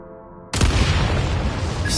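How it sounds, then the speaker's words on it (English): A sudden loud blast from detonated explosives in Genshin Impact, erupting after a quiet hum and leaving a sustained rumbling roar that carries through to the end. "Shoot the explosives to detonate them and clear the path."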